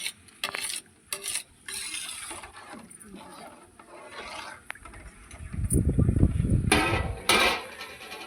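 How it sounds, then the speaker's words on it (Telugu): Rice and water are stirred together in a home cooking pot for bagara rice, with scraping and sloshing that grows louder and denser toward the end, mixed with clinks and handling noise. "ఇప్పుడు అంతా కలిపేసుకోవాలి."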